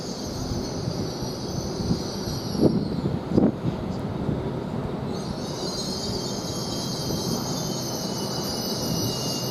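A Northern train set rumbles at Doncaster railway station, a steady rolling roar with a couple of brief clanks partway through, continuous and fairly close throughout.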